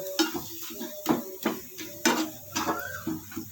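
Banana halwa being stirred in a pan, with a spoon scraping and knocking against the metal in a loose rhythm of about eight clinks, close and moderately quiet.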